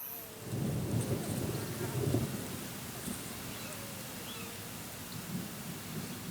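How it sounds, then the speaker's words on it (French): A thunderclap and falling rain mark the start of the rainy season in the hot African savanna. A broad low rumble of thunder rolls under a steady hiss of rain, with faint insects in the background. "un coup de tonnerre lance la saison des pluies"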